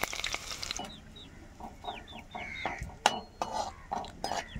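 Curry leaves dropped into hot oil while cooking a bitter gourd and egg fry, giving bursts of sizzling and crackling with stirring clatter. Chickens cluck faintly in the background.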